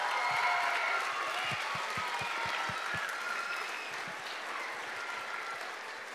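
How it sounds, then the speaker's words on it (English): A school concert audience in a high school auditorium applauds the young performers, steady sustained clapping at moderate level with a few sharp individual claps standing out, gently tapering near the end. "how about an extra big applause for all of the kids that performed tonight"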